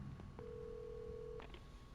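Telephone in the video game Alan Wake Remastered giving a single sustained electronic tone, with a couple of short clicks around it and quiet game ambience underneath.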